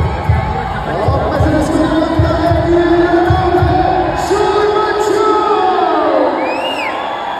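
Packed stadium crowd at the ECL 2024 cricket final between Haryanvi Hunters and Lucknow Lions, a loud continuous roar of cheering voices with a steady thudding beat pulsing underneath.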